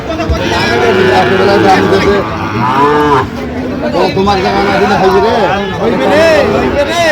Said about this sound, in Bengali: গরুগুলো দেখছেন।